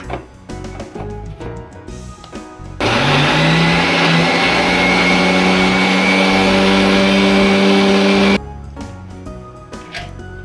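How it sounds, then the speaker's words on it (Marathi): A mixer grinder whirs loudly and steadily for about five seconds as it grinds bread pieces into crumbs, with kitchen clatter before and after the run. "आता आपण हे मिक्सर मध्ये बारीक करून"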